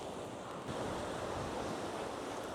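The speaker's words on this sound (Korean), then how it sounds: "파도가 예술 작품 만들고 있습니다" Sea waves break against coastal rocks on the Yeongdeok shore, a steady wash of surf with a slight swell partway through, heard fairly faint and alone amid some wind.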